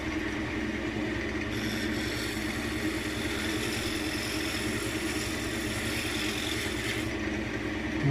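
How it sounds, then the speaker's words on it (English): A wood lathe turns a small oak ashtray, its motor giving a loud, continuous whirring hum, with the cut briefly changing tone partway through. "And you let the lathe do the work."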